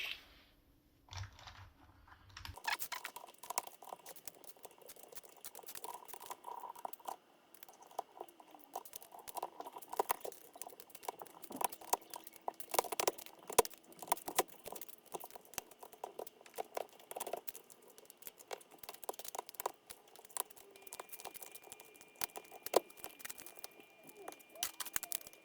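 Silent linear Tamu switches being pressed into a KN85 keyboard: a dense, continuous run of small clicks, snaps and scraping handling noises, close and fairly quiet, with no talking.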